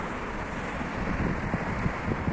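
Wind buffets the microphone outdoors on a freezing 2 °C day, a steady rough low rumble with gusty thumps, loud and continuous with no talking.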